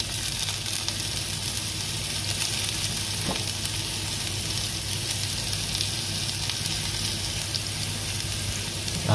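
Garlic and ginger sizzle steadily in hot oil in a pan for ginataang tilapia, a constant close frying hiss with occasional stirring.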